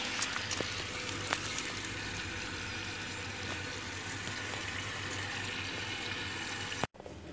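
Water rushes steadily into a washing machine under repair, a constant, even hiss and gurgle heard at moderate distance for several seconds, cut off abruptly near the end by a brief clunk.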